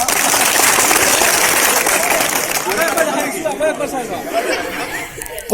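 A crowd claps and chatters together at a gas cylinder fire safety demonstration, steady applause fading out over a few seconds while voices and a little laughter continue.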